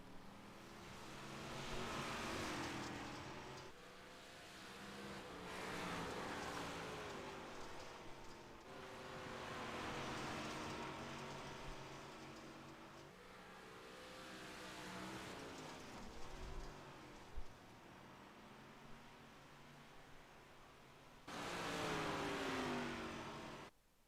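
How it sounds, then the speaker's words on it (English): 358 modified race cars roar around a lap at Knoxville Raceway, a dirt oval, with engine drones rising and falling in long passes and a loud burst near the end, heard from the stands. "it looks like some cars are going to go out here and just run 3/4 of a lap"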